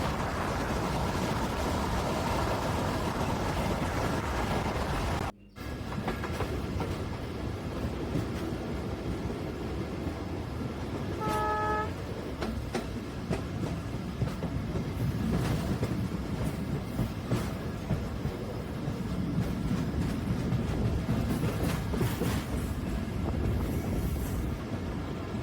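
A Benapole to Mongla local train runs steadily, carriages rumbling and rattling loudly from onboard with a rhythmic clatter over the rails and a brief horn-like tone partway through.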